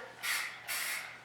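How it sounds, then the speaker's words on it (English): A paint spray gun gives two short hissing test bursts, each about a third of a second, close and fairly soft, with a brief pause between them while prepping BMW 5 Series front end parts. "we'll do a little test spray"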